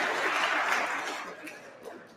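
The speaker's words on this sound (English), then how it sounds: "Let's give a round of applause to the EFF members" Audience at an awards ceremony claps for EFF members, a moderately loud wash of applause that gradually fades away, with a few chuckles mixed in.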